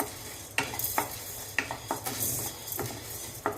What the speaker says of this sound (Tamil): கருப்பு உளுந்து வறுப்பட்டுட்டு இருக்கும்போது மிளகு சேர்த்துக்கலாம்